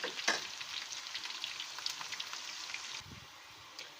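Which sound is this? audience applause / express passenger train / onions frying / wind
onions frying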